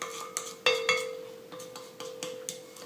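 Whisk or spoon knocking and scraping against a bowl while sugary meringue is mixed, a series of sharp clinks and taps about every half second, close and fairly quiet.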